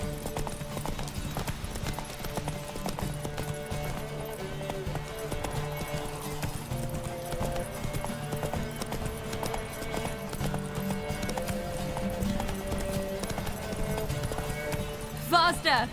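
Horse hooves galloping in The Witcher 3 video game: rapid, continuous clip-clop beats, steady and fairly close, beneath game music and a voice talking.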